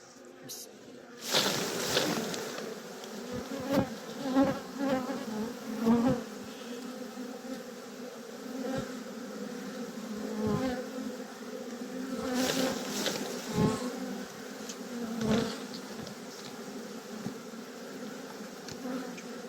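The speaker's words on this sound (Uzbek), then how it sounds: "Mana idishimizga soldik. Bu arilarimiz" Honeybees buzzing inside a container, a close, continuous drone that swells and fades, with occasional knocks and scrapes against the vessel.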